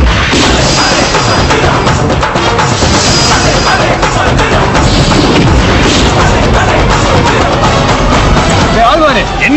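A loud, dense explosion effect bursts and rumbles continuously after a joke about a bomb in the mouth, filling the scene with booming crashes and heavy noise that never lets up.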